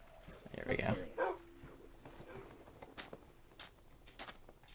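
Minecraft dog barks in the game: a couple of quick, clear yips and barks near the start, followed by faint game clicks, with talk in the background.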